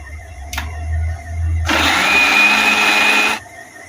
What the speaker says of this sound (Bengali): প্রথমে আদা পেস্ট করব